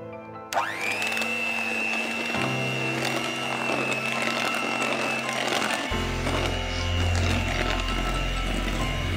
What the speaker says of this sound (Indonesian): Ini kita masukkan semuanya di mixer lagi dengan kecepatan rendah sampai tercampur